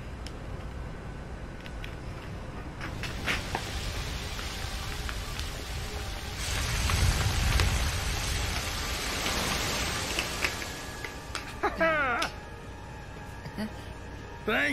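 Rain pours steadily in Kingdom Hearts III gameplay, swelling louder in the middle, with a few brief electronic chirps and squeaks near the end.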